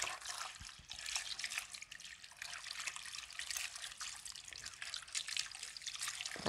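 Water trickles and splashes steadily as freshly harvested taro from the forest is washed, faint and close, dribbling without pause and with no voices.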